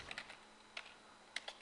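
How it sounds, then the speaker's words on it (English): A computer keyboard is tapped as a command is entered, with a few faint, light clicks in small clusters separated by short pauses. "that involves just simply typing configure"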